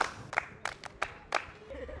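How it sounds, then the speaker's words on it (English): A junior high English class gives a student a few sparse, distinct claps, about five quick hits spaced across a couple of seconds, fairly quiet and close. "Please clap for him."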